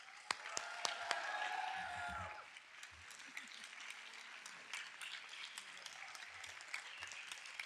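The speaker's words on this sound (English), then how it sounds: "please join me in giving a big round of applause to Supervisor Lindsay Horvath." Moderate indoor applause from an audience at a county supervisor swearing-in ceremony, with scattered claps and a few voices, louder during the first two seconds and then thinning into quieter, sporadic clapping.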